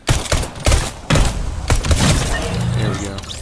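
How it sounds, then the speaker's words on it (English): Fortnite gameplay with a burst of loud gunfire, including a pistol shot, followed by thuds and a shattering crash. The sounds are close and busy and overlap heavily with someone talking throughout. "A pistol shot and you're out."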